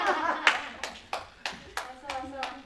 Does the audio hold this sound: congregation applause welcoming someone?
yes